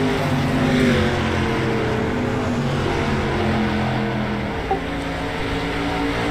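Race cars battle for position on a track during a Wednesday night cash race, engines droning steadily and continuously at moderate distance with no talk over them.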